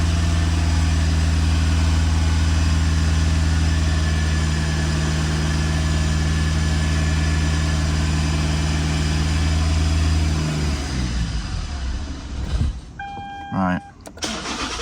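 A 2009 Lexus IS220D diesel engine runs loud and steady at raised revs after an oil, air, fuel and cabin filter service, then abruptly cuts out near the end, leaving a few faint clicks and knocks.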